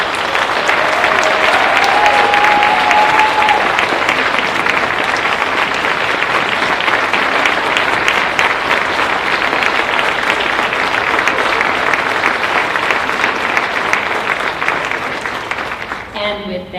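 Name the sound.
audience applause for athletic honorees at a ceremony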